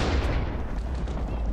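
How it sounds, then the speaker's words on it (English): Lightning summoned down in a Minecraft-style survival game, a loud continuous rumbling crackle of thunder-like booms that fills the short moment, close and heavy, with no voice over it. "I just summoned a bunch of lightning on top of my head."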